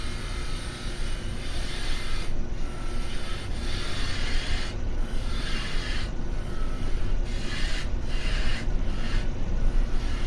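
Spindle gouge cutting an antler urn on a wood lathe spinning around 2,000 rpm: a loud, steady, close roaring hiss that dips briefly in its higher edge several times as the tool lifts, with no talking.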